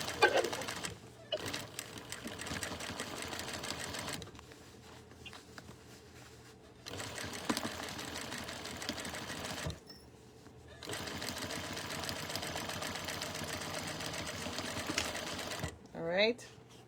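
A sewing machine stitches a fabric face mask in quick bursts of fast, even needle clatter separated by brief pauses, while someone talks over it quietly in the foreground.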